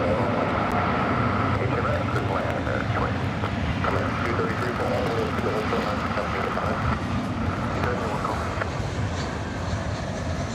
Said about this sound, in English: So another heavy aeroplane for you.